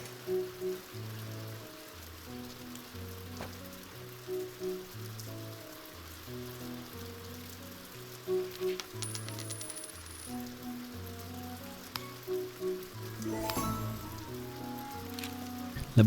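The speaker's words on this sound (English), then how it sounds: "now it's raining also, you can see all the fields are getting wet now" Steady rain falling on fields in the farming and colony game Stonehearth, a soft continuous patter beneath a looping gentle music track, with a few brief clicks and no talking.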